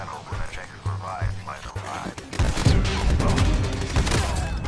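Shotgun fire in a multiplayer shooter video game, a dense burst of loud overlapping blasts rolling into sustained gunfire after a quieter opening stretch.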